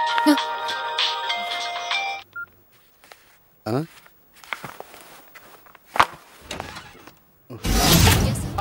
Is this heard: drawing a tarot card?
no